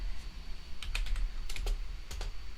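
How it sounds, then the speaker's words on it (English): Light clicking keystrokes on a computer keyboard come in short bursts of a few taps each, close and quiet over a low background hum. "And I'm typing with the Japanese IME keyboard."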